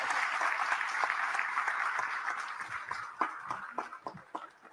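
Dense applause from an audience at a gathering on the history of Hispanic December dances, a steady wash of clapping that thins out toward the end into scattered, sharper claps.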